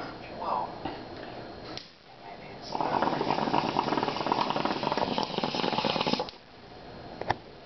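Water bubbling in a bong during a hit, a steady close gurgling rush lasting a few seconds, set between quieter breathy moments.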